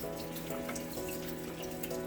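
Filtered water running from a tap to wet a spring roll rice paper wrapper, a steady close splashing stream throughout.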